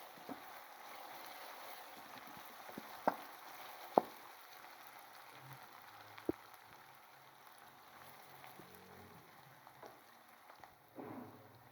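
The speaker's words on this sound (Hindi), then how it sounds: "अब हम इसके अंदर लहसुन अदरक का पेस्ट शामिल कर देंगे। अच्छे से इसको भी भून लेंगे।" Garlic-ginger paste sizzles steadily in a pan while an aloo chicken curry is being cooked, a constant soft hiss broken by a few sharp taps and clinks, with no voices.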